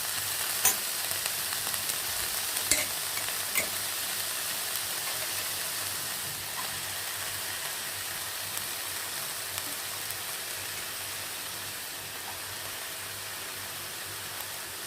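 Banana flower sautés in a pan as a soft, even sizzle and hiss runs throughout, with a couple of sharp utensil taps early on and faint stirring, fairly quiet and without speech.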